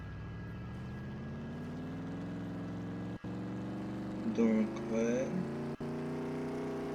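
Engine of a customized car in the Roblox game Mad City revs up steadily, a rising harmonic drone that holds loud under someone talking in French, with two brief dropouts.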